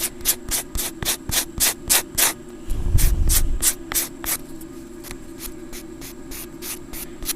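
Chipboard edges are scraped and roughed up for a distressed look, producing a rapid series of short, rasping strokes close by, with a brief low rumble midway.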